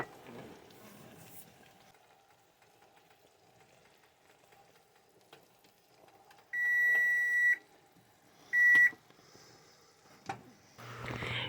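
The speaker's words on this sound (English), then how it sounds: "Alright, I'm going to start our timer for 1 minute." Kitchen timer beeping while dandelion jelly cooks on the stove: two loud, clear electronic beep bursts, the first about a second long and the second shorter, over faint kitchen rustling and low background noise.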